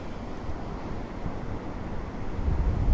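Atlantic Ocean surf rolls onto the beach at Smith Point, Long Island, New York, with a continuous low roar of breaking waves and buffeting wind on the microphone that swells louder toward the end.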